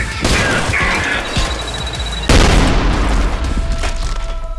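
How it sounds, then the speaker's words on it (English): Grenade explosions and gunfire in the video game Trepang2, with a dense burst of booms and cracking shots, a heavy blast midway, and further pops trailing after. "set off one of their grenades and throw them at an enemy."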